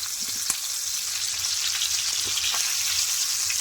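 Pomfret fish frying in hot oil with oil spooned over it, giving a steady, loud sizzle throughout, with scattered small pops and crackles and no talking.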